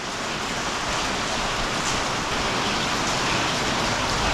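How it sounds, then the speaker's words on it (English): Steady rain pours onto a street in Macau after a typhoon, a dense, constant wash of hiss that stays loud and close throughout, with no voices or other distinct sounds standing out. "Still raining."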